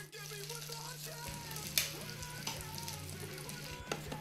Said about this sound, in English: you're going to hear them start to sizzle